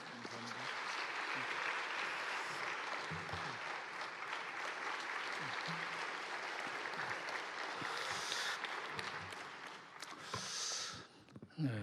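Sustained applause from a church congregation, steady clapping that carries on for several seconds before tapering off near the end.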